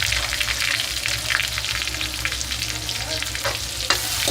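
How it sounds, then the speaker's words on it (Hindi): Finely chopped onion frying in hot oil with a pinch of asafoetida, a steady dense sizzle with occasional stirring scrapes, close and continuous, with no voices. "थोड़ी सी हींग, इसमें हम डालेंगे एक छोटा प्याज बारीक चॉप किया हुआ।"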